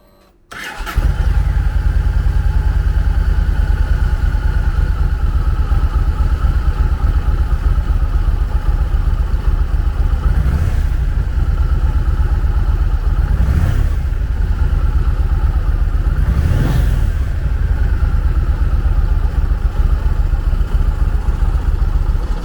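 A 2008 Yamaha XV1700 Road Star V-twin motorcycle cranks and catches, then settles into a loud, steady, close idle with a deep pulsing thrum and three brief blips of the throttle.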